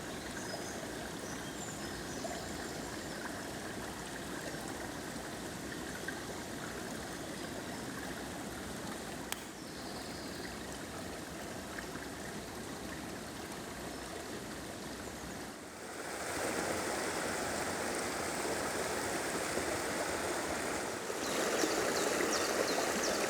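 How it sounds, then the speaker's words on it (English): Water running and trickling underfoot on a woodland walk past Cotswold dry stone walls near Bisley, a steady close stream-like rush that continues throughout and grows slightly louder toward the end. "the sound of the water percolating beneath my feet"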